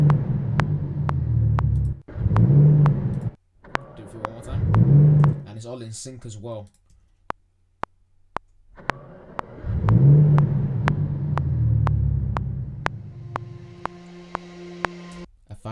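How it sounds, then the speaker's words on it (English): Aston Martin car engine sound effect rumbling and revving in bursts under music with sharp clicks, while a person speaks briefly over it. "Car engine."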